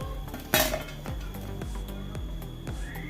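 Metal utensils clink and scrape against a frying pan as fried banana fritters (pazham pori) are scooped out of hot oil, one sharp close clang followed by softer clatter and the faint hiss of frying.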